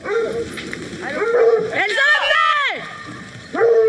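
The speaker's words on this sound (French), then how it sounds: "Les chiens à peine lâchés, difficile de les contrôler." Hunting dogs bark and yip excitedly as they are let loose at the start of a hunt at a game fair, several close barks rising and falling over a couple of seconds amid outdoor background noise.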